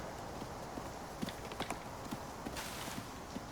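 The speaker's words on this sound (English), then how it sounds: "Oh, there was a goat running around." Goat hooves running in the survival video game Icarus: a rapid, light clip-clop of repeated hoof beats at moderate distance over steady ambient game background, without talk.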